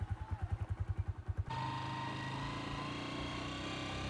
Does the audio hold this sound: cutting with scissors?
no